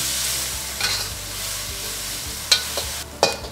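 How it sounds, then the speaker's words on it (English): Green beans searing in a hot pan, a loud continuous hiss and crackle with a few distinct spatula scrapes and clinks standing out near the end. "The goal here is to sear the green beans so it's got like a nice char to it."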